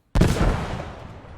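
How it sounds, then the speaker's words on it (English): An explosion goes off in a World War II tactical multiplayer video game, hitting suddenly with a loud boom that rumbles and slowly fades over about a second, with no talking. "We just saw an explosion there."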